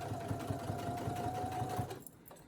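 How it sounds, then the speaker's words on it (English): A Brother SE1900 embroidery machine stitches an oven mitt with a close, rapid, even needle hum that stops abruptly near the end. "And okay, keep sewing."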